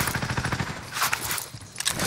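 Rapid automatic gunfire in Call of Duty Warzone Rebirth, a dense rhythmic string of shots that continues for about two seconds with a slight pause midway.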